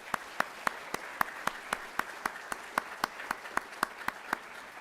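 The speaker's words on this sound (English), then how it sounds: "Let's give them all a round of applause" Scattered hand claps in a school auditorium at a middle school promotion night, a steady sequence of sharp individual claps, moderately near with no talk over them.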